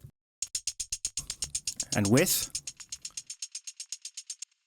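Shaker loop sampled from vinyl for a remake of a track, a steady rapid train of crisp hits that plays dry and then processed, with a brief voice talking over the middle.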